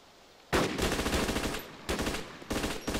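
Automatic gunfire from a squad in the military shooter ARMA 2 erupts suddenly and loudly in three sustained bursts, with brief pauses between them.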